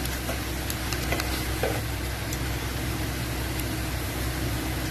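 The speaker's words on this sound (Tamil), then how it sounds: "இந்த மூணையும் இந்த வெங்காயத்தில் போட்டு நல்லா வாசம் வர வரைக்கும் வதக்கிக்கோங்க" Onions sauté with fennel, cardamom and garam masala powders for hotel-style channa masala, giving a dense, even sizzle with occasional light scraping and taps of stirring, close and steady, with no talking.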